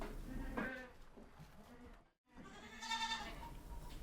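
A goat bleats twice, close and fairly loud, each call a wavering nasal cry separated by a brief silent gap.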